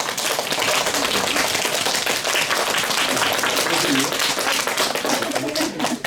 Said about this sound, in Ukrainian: вітаємо вашими оплесками автор Радчишина Анна